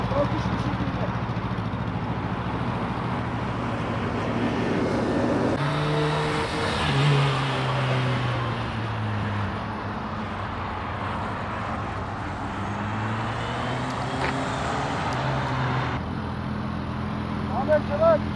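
A motorcycle pulls away during rider training, using clutch and throttle. The engine hums steadily and then rises in pitch as it moves off, under continuous instruction from a speaking voice.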